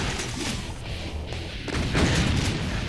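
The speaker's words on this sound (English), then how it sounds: "Explosions really do a lot now." Explosions in the Brutal Doom V20 video game on Realistic difficulty, a dense rumbling wash of blasts and crashes that swells louder near the end, continuous and close with no talking.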